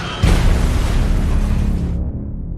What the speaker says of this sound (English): resulting from a mid-air explosion before falling to Earth